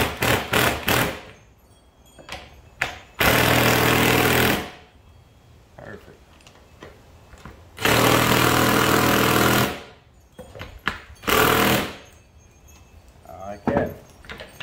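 Power driver set to low torque tightening a lock nut on a D-ring tie-down for a DIY truck bed slide, in three long loud whirring bursts separated by brief clicks and handling noises.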